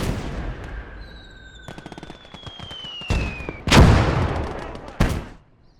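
Mortar rounds from 60mm mortars land on a Pak-40 anti-tank gun crew in the World War II game Gates of Hell, with scattered gunfire, whistling shells and two loud, close blasts.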